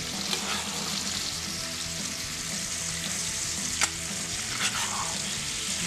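Beef searing in a pan while butter and shallot are spooned over it, a loud continuous sizzle and crackle with occasional sharp spoon clicks against the pan.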